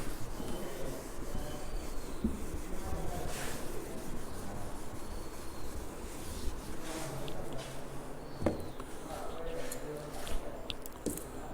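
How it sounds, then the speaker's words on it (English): A chalkboard being wiped clean in a classroom during a maths lesson, a soft continuous rubbing and scrubbing that carries on steadily, close and fairly quiet, with a few brief knocks. "Till then I am rubbing the board."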